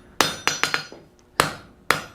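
A forging hammer strikes bar stock on an anvil, six sharp metallic blows at close range in an uneven rhythm: a quick run of four, then two more spaced apart, each ringing briefly before fading.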